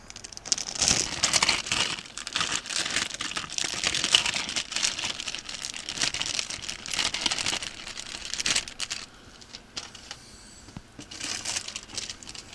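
Pre-cut onions rustle and crinkle inside a plastic bag in a home kitchen, a close, busy crackling that runs almost steadily for about nine seconds before thinning into a few softer rustles.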